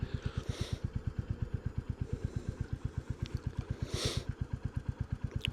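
A Royal Enfield Bullet 350 motorcycle rides along, its single-cylinder engine thumping in a steady, fast, evenly spaced pulse, loud and close, with brief wind or traffic swells passing over it.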